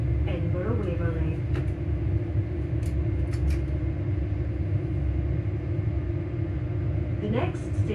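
Interior of a ScotRail Hitachi Class 385 train in motion between Polmont and Linlithgow: a steady low rumble and hum of running gear continues throughout at moderate level, with an onboard announcement voice heard over it.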